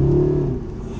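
A Mercedes SLS AMG's engine revs hard from the cabin, a loud droning note that dips and eases as a slow gearbox shifts.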